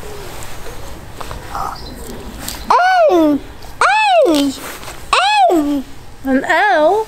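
A pet bird gives four loud, close, rising-and-falling cooing calls in a slow rhythm, after quieter stretches with people talking softly.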